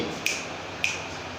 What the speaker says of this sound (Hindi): स्नैप होता है चुटकी, कहते हैं ना, with the snap of finger